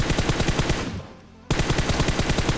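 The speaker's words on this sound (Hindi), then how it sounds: "यहाँ पे थोड़ी सी रैंडम फायर देता हूँ मैं" Rapid automatic gunfire from PUBG Mobile crackles in dense, loud bursts that stop for a brief half-second gap before a fresh volley starts.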